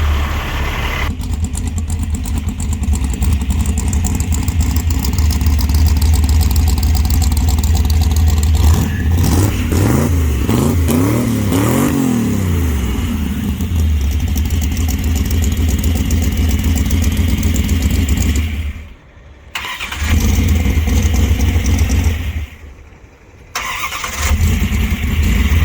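A 1966 Dodge Dart with a big-cam 273 V8 runs loud and close, its engine revving up and down in repeated throttle blips, with a couple of brief drops in level toward the end.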